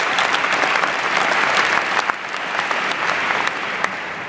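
Audience applause for Teach for America teachers, a thick, continuous roar of many hands clapping, loud and steady with a few sharper claps standing out near the end.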